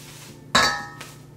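Sugar being added to mashed sweet potatoes in a bowl for a sweet potato casserole: a single sharp clank of utensil against the bowl, a brief decaying ring, then a faint second tap, close and with no talking.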